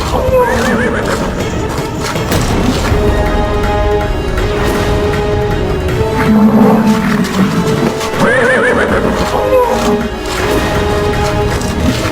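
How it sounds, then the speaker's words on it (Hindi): A horse neighing loudly, with repeated strong whinnies rising over a busy, dramatic background of hoof clatter and other noise, close and prominent. "अश्व की ध्वनि इतनी तीव्रता से क्यों हिनहिना रही है ये?"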